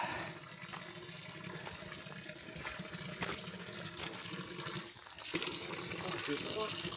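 Water rushes steadily through the Dordogne gorges in Corrèze, a continuous close wash of flowing water while people chat over it.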